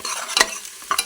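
Sliced onions frying in hot tempering oil for a mutton curry, with a steady close sizzle and two brief louder bursts of stirring.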